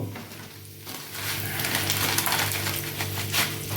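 Egg and cauliflower fry in a pan with a steady, dense sizzle and crackle, close and moderately loud, without any talking.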